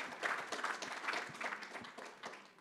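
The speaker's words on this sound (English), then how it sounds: "Round of applause." An audience at a religious knowledge retreat applauds for a few seconds, dense steady clapping from many hands that fades slightly toward the end.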